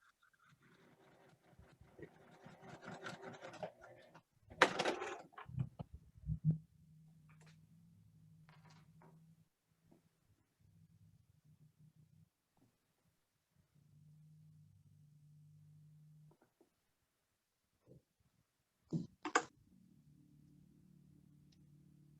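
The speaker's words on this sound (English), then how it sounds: "we're going to go sew on this line that we drew from here to here" A sewing machine stitches a quilt block in short runs, a low mechanical buzz starting and stopping several times, close and fairly quiet, with handling rustles and clicks between runs.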